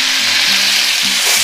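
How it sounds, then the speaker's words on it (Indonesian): Tofu coated in salt and garlic frying in hot oil, a steady loud sizzle and crackle filling the whole moment with faint tonal hum underneath. "Untuk pelengkapnya saya akan goreng tahu ya teman semuanya, yang sudah dilumuri dengan garam dan bawang putih."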